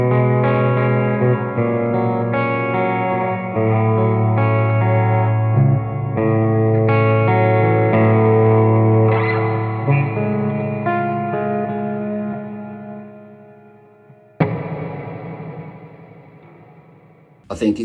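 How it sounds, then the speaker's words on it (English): An electric guitar runs through a Barn Owl reverb pedal set for a spring reverb style, playing a string of sustained, overlapping notes with a washy tail that slowly decays before a final struck chord fades out. "I think it's aiming more towards a spring reverb style."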